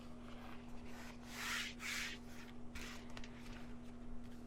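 Light rubbing over a crease in a sheet of pre-gessoed canvas, two soft brushing strokes followed by fainter ones, quiet and close over a steady low hum.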